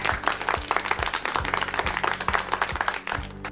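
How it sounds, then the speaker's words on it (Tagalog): Loud clapping during a school radio lesson, with sharp, rhythmic claps repeating steadily over a bright musical backing for a few seconds. "isang malakas na palakpak nga dyan."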